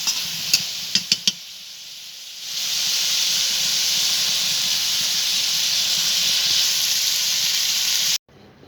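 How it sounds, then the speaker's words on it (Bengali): Oil bubbling in a pan of prawn curry, opening with a few sharp clinks of a utensil before a loud, steady sizzling hiss rises and carries on, then cuts off abruptly. "চিংড়ি মাছের ঝোল থেকে দেখুন তেলটা ফুটছে।"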